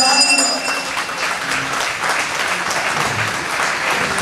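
An arena crowd at a fight event, the main event of a combat sports night, breaks into loud, dense, sustained applause that fills the whole stretch, with a little indistinct voice mixed in.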